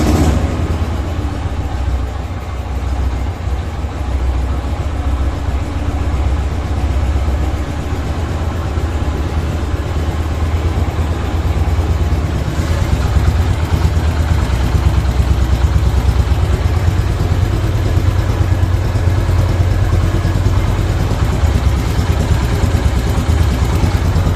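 A Yamaha YBR 125 motorcycle engine, first start after an engine flush and fresh oil, idles steadily and loudly, with a constant low throbbing rumble and faint mechanical clatter throughout.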